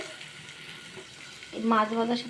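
Fish and green chillies fry together in a pan, giving a soft steady sizzle up close, with a brief louder burst of crackling hiss near the end.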